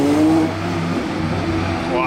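A Lamborghini Huracán on a Monaco street revs with its exhaust valves opening, a rising engine note that swells and settles over about two seconds while people speak nearby.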